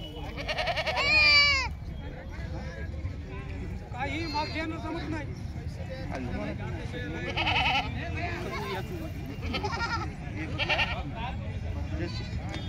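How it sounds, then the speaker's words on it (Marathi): Native goats bleat repeatedly at a busy goat market in Vasmat, Hingoli district, Maharashtra, with several loud, wavering cries rising over a murmur of voices and crowd noise throughout. "गावरान शेळी आहे."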